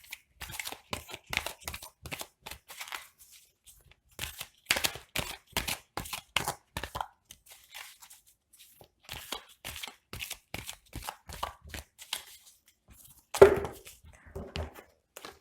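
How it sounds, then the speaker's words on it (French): Tarot cards are shuffled and drawn by hand, a series of crisp, close riffling and slapping bursts in irregular clusters separated by short silences. "Allez, on va tirer de toute façon 5 cartes."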